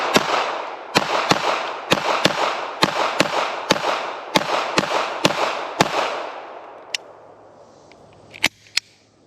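A West German service pistol fires a second magazine, about a dozen sharp, loud shots at a quick, fairly even pace, with ringing tails, then a pause and a couple of final reports.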